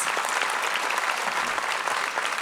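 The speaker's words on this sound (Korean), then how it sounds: "Please welcome him with a big round of applause" A big round of applause from an outdoor crowd welcomes a pastor at a peace and unification prayer rally in Seoul, with dense, steady clapping throughout and no break.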